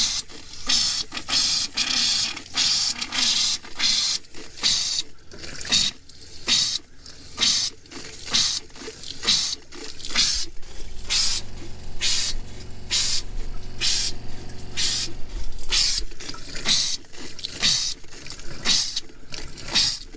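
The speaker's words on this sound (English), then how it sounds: "Let some water flow." Water splashes and gushes in repeated bursts from a tap as air is flushed from the lines by a water pump, with a steadier rushing flow in the middle before the spurts return.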